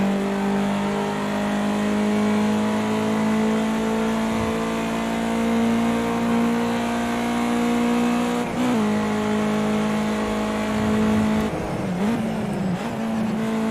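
A race car in Project CARS 2 drives steadily with its engine drone holding constant, then a brief dip and a pitch shift as it drops into fourth gear. The sound is continuous and loud, with no talk.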